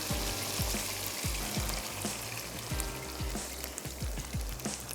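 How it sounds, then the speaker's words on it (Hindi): Meat stock poured into spiced meat browning in a pot, a steady loud sizzle and hiss with bubbling, close and continuous, no talk. "अब हम इसमें शामिल कर देते हैं यखनी, क्योंकि ये गोश्त हमारा मसालों के साथ अच्छा सा भुन गया है।"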